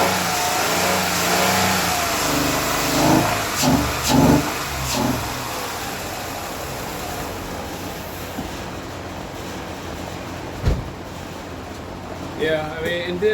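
A car engine revs up and settles back to a steady idle, loud and close, with brief rises in pitch near the start. The car has had its valves adjusted and has a fault that drops it into limp home mode.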